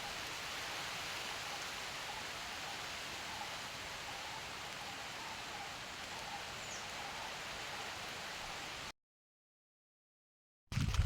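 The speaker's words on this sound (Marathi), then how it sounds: "मित्रांनो बघा, पाऊस यायला सुरुवात झाली" Monsoon rain falls in a forest as a steady, dense hiss of drops on leaves and surfaces, close and constant for most of the stretch before cutting off abruptly, with a brief burst of sound returning at the end.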